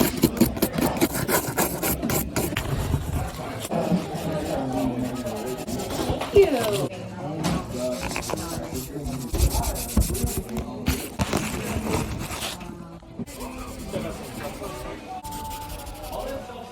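A toothbrush scrubs a Secret of Mana game cartridge, giving repeated close, raspy brushing strokes in an uneven rhythm that runs throughout, with short pauses between bursts.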